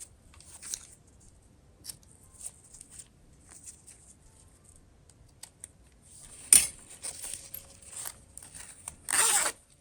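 Scissors snip through a folded fabric zipper while a wallet is sewn, giving a few faint, scattered crisp cuts and rustles, then one sharp louder snip near the end followed by a brief burst of scraping.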